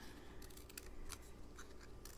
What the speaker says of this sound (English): just cut off the some of the outer petals